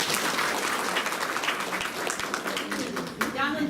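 An audience applauds at a workshop on welcoming the birth of girls, a dense, continuous round of clapping with voices mixed in.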